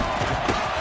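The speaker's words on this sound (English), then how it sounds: "the crowd getting into it as we come up on a big" Stadium crowd in a football video game on PS4 swelling with cheers and roars ahead of a big third down, a steady dense wash of crowd noise under a commentator's voice.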